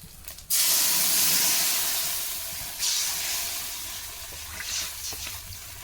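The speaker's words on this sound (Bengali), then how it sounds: "আমি এখন এই জলটা এই মাছের উপর দিয়ে দেবো" Water poured over fish in a hot pan in a village kitchen cooking tilapia, bursting into a loud, broad hiss and sizzle that rises again briefly and then settles into a steady crackle.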